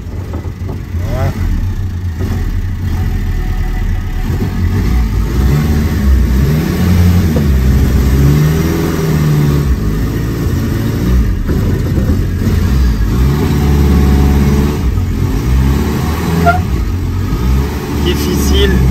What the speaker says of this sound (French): Difficile de déplacer une voiture avec deux pneus complètement à plat.